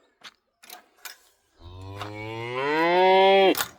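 A full-size cow gives one long, loud, rising moo lasting about two seconds, close to the listener, after a few short quiet knocks.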